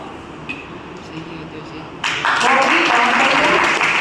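An audience breaks into loud, sustained applause at a district-level school quiz competition, starting abruptly midway after a murmuring room and continuing as dense clapping to the end.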